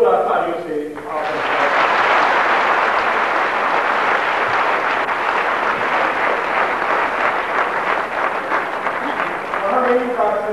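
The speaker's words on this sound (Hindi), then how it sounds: "जोरदार तालियों से" Loud, sustained applause from a large audience at the opening of a grand convention, rising suddenly after a brief stretch of speech and continuing steadily, with talk returning at the very end.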